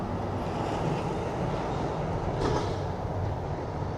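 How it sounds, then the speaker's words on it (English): The Jacobite steam train passing by outdoors, a steady, fairly distant rumble of the locomotive and rolling carriages with faint clickety-clack from the rails, continuous throughout. "Here's the train now."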